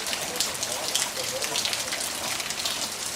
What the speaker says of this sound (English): You normally have to get just the right focal length to get rain, but you don't have to here. It's everywhere.